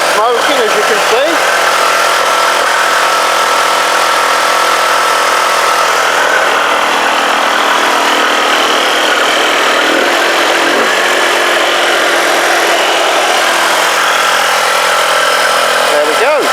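A Kymco Agility scooter engine idles steadily while warming up after a spark plug fix, a continuous mid-pitched running note held throughout, close and loud, with someone talking over it.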